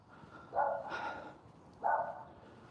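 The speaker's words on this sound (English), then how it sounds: "Oh, I can hear barking." A dog barks twice in the distance in a park, two short bursts about a second apart, over a steady outdoor background hum.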